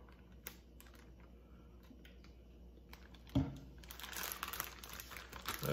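Quiet crinkling and rustling of a plastic bag holding chicken thighs in mojo marinade, soft handling noises that grow busier and louder toward the end.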